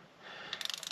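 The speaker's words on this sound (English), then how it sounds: "And I know you're not supposed to have an extension on the torque wrench" A torque wrench fitted with an extension clicks rapidly as it tightens camshaft cap bolts on an SR20 engine during an HKS cam install, a quick run of close, faint ratcheting ticks.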